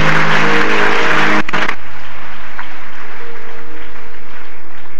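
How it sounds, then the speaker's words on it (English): A congregation claps hands together during a dedication service, a loud burst of clapping over organ-like tones that stops abruptly after about a second and a half, leaving quieter sustained background tones. "Clap your hands together for me."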